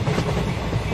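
A local train rolls along in the video game RoFT, its wheels rumbling low and steady with a faint clickety-clack running through the whole second.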